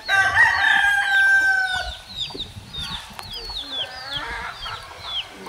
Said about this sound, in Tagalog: Maraming manok dito sa baba